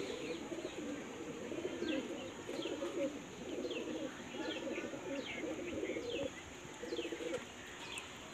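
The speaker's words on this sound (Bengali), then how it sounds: "তো দেখুন এই হচ্ছে মেল পায়রাটা" Male racing pigeons cooing in a loft: a steady, repeated low cooing close by, with light chirps and a faint constant background hum.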